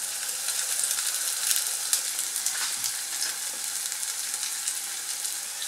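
Cuban-style malanga fritters frying in hot oil give a steady, close, dense crackle and sizzle with scattered sharper pops throughout, no voices over it.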